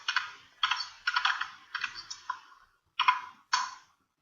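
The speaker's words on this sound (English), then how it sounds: "You need to type your note" A note is typed on a computer keyboard in short bursts of crisp, close key clicks separated by brief pauses, with no talking.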